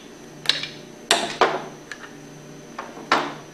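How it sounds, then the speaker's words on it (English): Two screwdrivers prying a mechanical seal out of a Hypro centrifugal pump give a handful of sharp metallic clicks and scrapes, spaced irregularly and close up, with no talking. "Take your two screwdrivers and pry out the mechanical seal."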